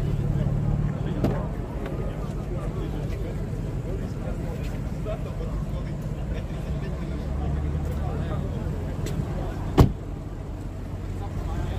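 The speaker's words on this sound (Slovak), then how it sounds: "V8 si krásne prádie." A V8 car engine purrs with a steady, deep low rumble throughout, holding an even idle-like tone, with a brief sharp knock near the end.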